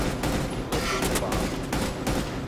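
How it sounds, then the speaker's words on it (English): Loud, close gunfire from the tactical shooter game Rainbow Six Siege, rapid bursts of shots packed together with a short break early on, then sustained firing to the end. "I shot her again, bro."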